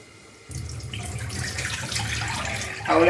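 Poha (flattened rice) is washed in water: after a quiet moment, a close, continuous splash and trickle of water begins, with sloshing that swells louder near the end and no speech.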